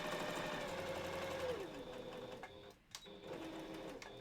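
A sewing machine hums and whirs steadily at close range while stitching a wolf balaclava, with a brief pause near the middle before the motor picks up again, and no talking.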